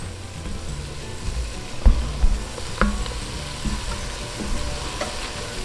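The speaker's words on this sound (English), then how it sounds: "Okay, we're gonna stir this." Vodka sauce fries in a pan while being stirred, a continuous close sizzle broken by a few low scraping knocks of the spoon against the pan, with nobody speaking.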